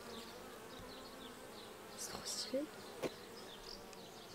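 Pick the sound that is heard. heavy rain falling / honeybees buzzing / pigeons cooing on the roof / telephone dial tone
honeybees buzzing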